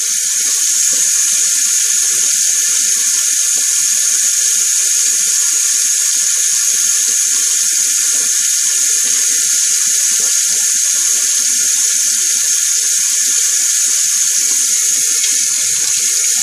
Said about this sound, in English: Rinse it well.